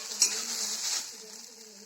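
Okra sizzles in a pan while a spatula scrapes and stirs it, giving a short clatter followed by a steady hiss that fades, close by and with no speech.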